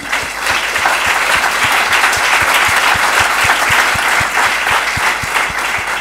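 Steady, dense applause from a seminar audience thanking the volunteer speakers, loud and continuous throughout with no talk over it.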